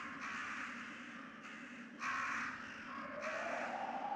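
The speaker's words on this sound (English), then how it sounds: "It's Forrest. He's been pecked to death by crows." Crows in Resident Evil Director's Cut caw repeatedly in harsh, evenly spaced calls, four or five in a row, moderately close with a quiet ambient bed underneath.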